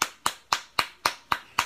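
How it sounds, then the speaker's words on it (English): Seven sharp hand claps ring out in a steady, even rhythm, close and crisp, with no voices in between. "make you clap, do like this"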